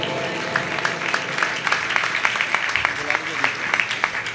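Audience applause at a Jain honouring ceremony during a shravak sanskar camp in Itarsi, a steady wash of many hands clapping with sharp individual claps standing out throughout, loud and continuous.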